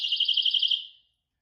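A personal safety alarm pulses a shrill, warbling electronic tone loudly for about a second, then cuts off into silence.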